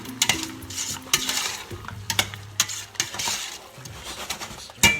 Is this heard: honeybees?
no